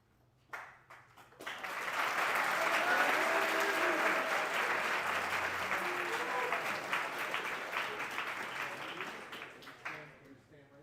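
An evening assembly audience breaks into loud, sustained applause that swells quickly and holds steady for several seconds before tapering off, with a few scattered claps at the edges.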